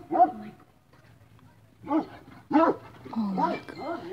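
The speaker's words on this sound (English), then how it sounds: "The dog." A dog yips and whimpers in short bursts separated by quiet gaps, close by, with people's voices mixed in.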